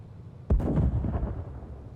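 A tank cannon fires a HEAT round at a Bradley's turret in the PC game Gunner, HEAT, PC!, a single loud booming blast that rolls on into a long rumbling decay with no talk.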